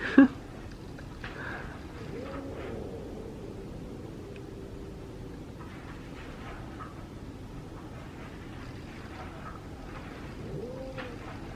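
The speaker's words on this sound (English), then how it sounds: "He's still growling." A cat growls low and continuously, rising into faint wavering whines now and then over a quiet hiss, with one brief sharp noise at the start.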